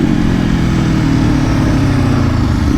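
Exhaust of a 2020 Aprilia Tuono V4 RR motorcycle on the road, a loud, close, steady V4 engine drone holding at high revs with no breaks.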